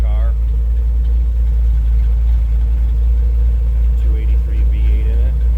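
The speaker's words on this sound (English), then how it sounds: "283 V8 in it. All the power you need for something this size. Nice sounding Delay Roadster." A 283 V8 in a 1928 Ford Model A roadster street rod idles with a steady, heavy low rumble, loud and close, while someone talks over it.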